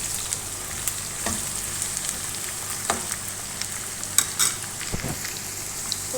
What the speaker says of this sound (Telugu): ఉల్లిపాయలు కూడా ఫ్రై చేసుకుందామండి.